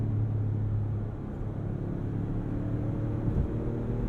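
A 2022 Ford Expedition Stealth Pack in Sport mode, its engine a steady low rumble and drone heard from inside the cabin while accelerating, with no talk.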